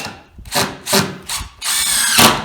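A power drill drives screws into green timber in several close, loud bursts of whirring, each run a second or less, with brief pauses between them and a longer final run.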